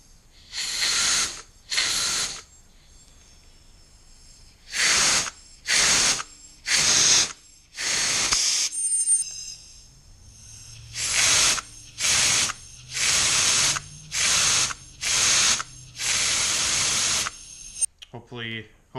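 Turbo wastegate valve on a boosted Integra GSR opening under applied boost pressure, giving a series of sharp bursts of hissing air, each lasting about half a second to a second, some in quick succession.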